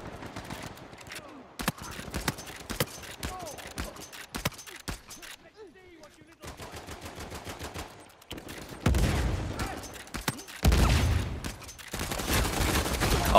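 Gunfire in an Uncharted 4 multiplayer match, bursts of sharp shots broken by brief gaps, with a player talking over parts of it and heavier, louder firing near the end.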